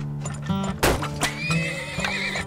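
A horse in a video game gives a loud, wavering neigh that rises and falls over about two seconds. Hoof clip-clops and other game sounds play beneath it.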